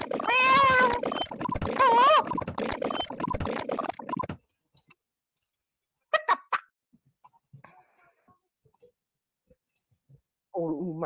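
A person speaks, then after a pause a few short, sharp cat meows ring out close by, with a brief burst of voice returning at the end.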